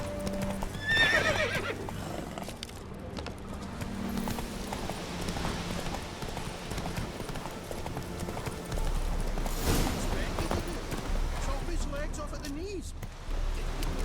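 Horse hooves clip-clop steadily with a loud neigh partway through in The Witcher 3: Wild Hunt, layered over game music and ambient rumble; a voice speaks briefly.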